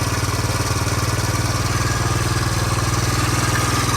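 A 1983 Honda CT110 motorcycle engine idles in neutral with a steady, even putter, close and continuous throughout, with no voices over it.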